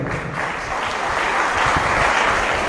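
Loud, steady applause from a church congregation at a Kannada Christian gathering, a dense wash of clapping that swells slightly toward the end and continues without a break.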